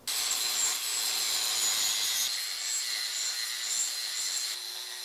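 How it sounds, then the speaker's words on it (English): An angle grinder smooths welds on metal trapezoid coffee table legs, a steady, loud, harsh abrasive whine running continuously with slight shifts in pitch and no talking. "So we'll grind these welds smooth"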